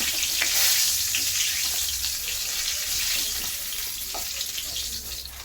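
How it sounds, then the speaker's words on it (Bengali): Pieces of rohu fish fry in hot oil with a steady, loud crackling sizzle that runs throughout, a dense hiss holding close and even with small pops scattered across it. "হয়ে গেছে আমার রুই মাছ ভাজি, এখন উঠিয়ে নিচ্ছি।"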